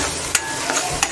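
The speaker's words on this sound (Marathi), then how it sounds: "असं आपण व्यवस्थित मिक्स करून घेऊया" A spoon stirs spice paste in a frying pan for a Malvani bangda fish fry, giving a steady sizzle broken by a few short scraping strokes.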